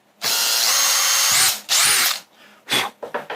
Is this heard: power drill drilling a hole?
yes